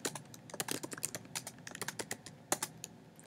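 Names being typed into a Google Sheets spreadsheet on a computer keyboard, a quick uneven run of close, crisp key clicks continuing throughout.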